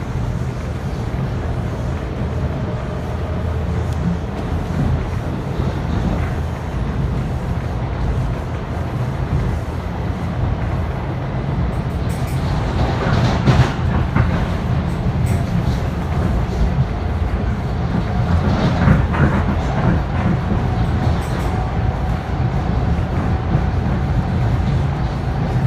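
A train runs between stations with a loud, steady low rumble and roar, and faint rattling clicks rise over it from time to time.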